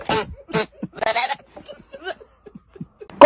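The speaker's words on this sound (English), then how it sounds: "A goat." A goat bleats in a string of short, wavering cries, fairly close and loud, with brief gaps between calls and a sharper cry at the end.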